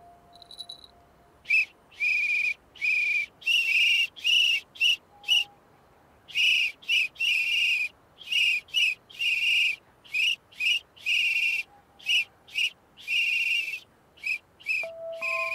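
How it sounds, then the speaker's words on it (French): A shrill whistle blown repeatedly in short and longer blasts, some in quick pairs, loud and close, with quiet pauses between. "Moi, j'ai mon sifflet."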